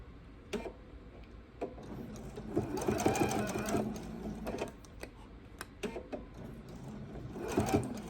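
A sewing machine stitching fabric for a bowl cozy runs in close, rhythmic bursts with short pauses and faint clicks between them.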